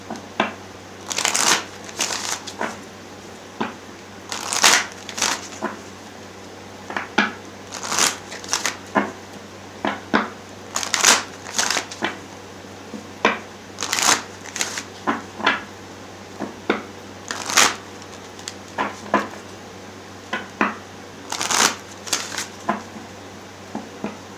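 Love Oracle cards being shuffled by hand in quick, repeated riffling bursts with light taps and shuffles between them, close up and fairly loud.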